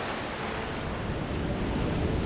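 Ocean surf rolls against a rocky African coastline, a continuous broad roar of breaking waves mixed with gusting wind noise.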